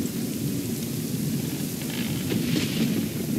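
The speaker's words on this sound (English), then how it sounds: "We won't last long in this storm." A thunderstorm in the hidden-object adventure game Immortal Love 2 rumbles with low thunder over a steady wash of heavy rain, continuous and fairly loud with no voices.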